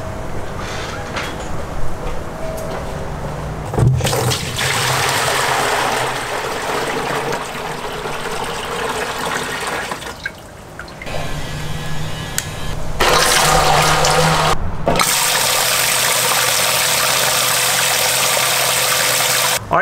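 A pump sprays water into a homemade live bait well fitted with a swiveling aerator spray head, giving a steady rushing hiss that starts after a few seconds, dips briefly, then returns louder and continuous to the end.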